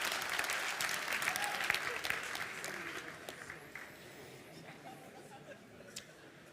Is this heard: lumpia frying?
no